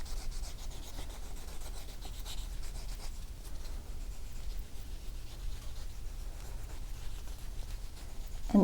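Steady rubbing and sanding of a stamped metal cuff, worked through successive grits and buffed all around, a continuous close scratchy friction with no pauses.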